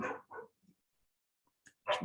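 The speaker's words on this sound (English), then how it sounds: "dog barking." A dog barks in a few short, sharp bursts with quiet gaps between them, fairly close and loud against a silent background.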